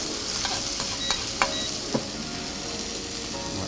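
Beef and cheese yakitori skewers fry in an oiled pan with a steady close sizzle, broken by a few sharp pops from the melting cheese.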